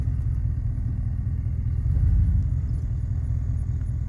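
A 1991 Chevy Silverado idles in reverse with the transmission loaded, a steady close low rumbling engine note that swells slightly partway through, with no voices.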